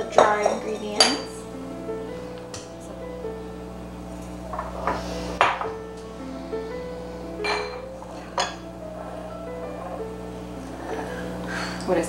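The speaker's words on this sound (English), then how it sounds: "Mix all the dry ingredients." Dry pancake ingredients for ancient grain pancakes being mixed in a bowl in a home kitchen with kids, giving bright clinks and knocks of utensil against dish over a low steady hum, with occasional louder taps.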